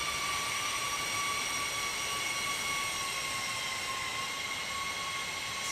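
Engines of a Felis Boeing 747-200 freighter in X-Plane whine steadily as the throttles come back and they spool down, a sustained, fairly quiet high hum with no voices.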